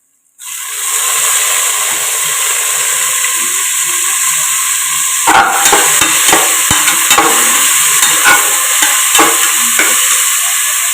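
Mint, coriander and curry leaves hit hot oil with fried onions for mutton biryani, bursting into a loud, steady sizzle, then rhythmic spatula scrapes and taps repeat through the second half.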